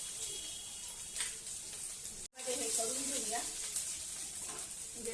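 Crushed garlic and a little ginger sizzle in hot oil with cumin while tempering urad dal, a steady close frying hiss that briefly cuts out midway, then returns fuller with crackling bursts.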